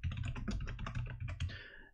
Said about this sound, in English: I'm going to get to it, typing these names up.